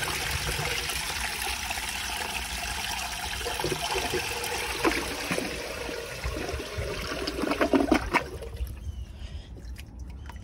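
An American Standard Cadet space-saver toilet flushing, a steady rushing and gurgling swirl of water that builds to a louder gulp near the end before cutting off into quiet.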